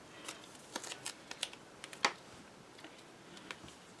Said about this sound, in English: I'm just removing the tape backing.